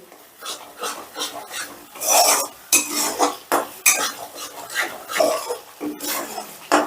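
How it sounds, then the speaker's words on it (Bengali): Masala being stirred and fried down in oil in a pan for a vegetarian bean makhani dish, a loud close rasping scrape of a spatula against the pan repeating in quick strokes over a faint sizzle. "এবার মশলাটাকে বেশ ভালো করে কষে নেব যতক্ষণ না মশলাটা থেকে তেল ছেড়ে দিচ্ছে"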